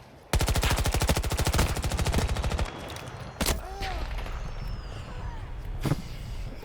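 A fast automatic burst of video game gunfire, loud and evenly spaced for about two seconds, then stops, leaving a few scattered shots and softer game effects afterward.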